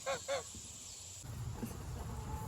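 Two short, nasal goose honks sound close together near the start, clear and nearby on a farm, followed by low background rustling with no talking.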